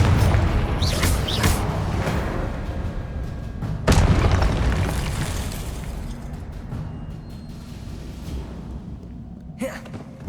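Confringo spell explosion in the Hogwarts Legacy video game on PS5, a deep booming blast that swells and rumbles away over several seconds, with a second sharp burst near the end.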